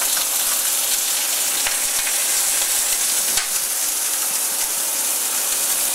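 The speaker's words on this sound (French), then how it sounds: "Notre poêle est très chaude. On va donc saisir nos noix" Scallops searing in a very hot frying pan give a loud, steady sizzle and hiss with scattered crackles, close up and alone.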